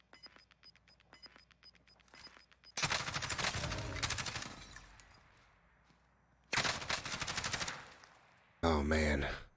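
Gunfire in the video game Warzone, rapid rattling bursts of automatic shots, some quick and light, then longer loud sustained volleys, close and dominant.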